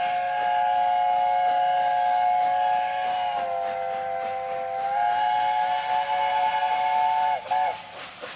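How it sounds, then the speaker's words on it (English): A steam locomotive's chime whistle sounds long and loud as engine number 7 departs Ferry Meadows station in Nene Park, holding a steady multi-tone chord for several seconds, dipping briefly in pitch, then ending with short final blasts. "The sound of the chime whistle echoes around Nene Park as number 7 departs from Ferry Meadows."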